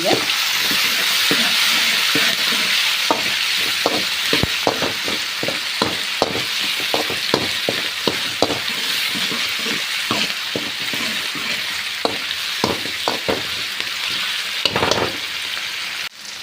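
Chopped onion and tomato frying in oil in a pan for ridge gourd sambar, a continuous close sizzle with scattered crackles and stirring clatters throughout.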